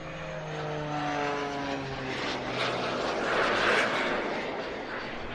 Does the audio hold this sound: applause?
no